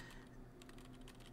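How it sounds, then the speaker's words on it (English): Fast, quiet typing on a Redscarf68 mechanical keyboard fitted with MOD-H switches, a soft, even patter of keystrokes under faint background hiss. "And when you type on this keyboard,"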